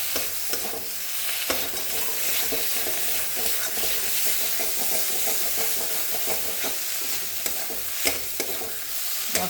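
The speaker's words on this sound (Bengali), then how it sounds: "মশলাটা ভালো করে ভাজা হয়ে গেছে" Spice masala for a masoor dal curry fries in a pan with a steady, dense sizzle, broken by repeated scraping stirs and occasional sharp clicks of the spoon against the pan.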